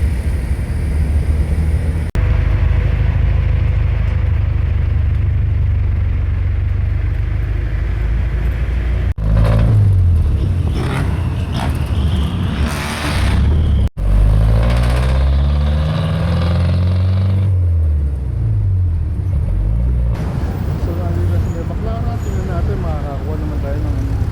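Road traffic and vehicle engines rumble steadily around an airport terminal area in the Philippines, with engine noise continuing under frequent talk and passing vehicle swells.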